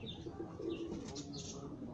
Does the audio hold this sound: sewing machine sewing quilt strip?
no